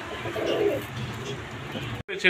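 Fancy pigeons coo softly and continuously at close range in a sale enclosure, with low murmuring sounds and a faint background hum, ending in a brief cutoff.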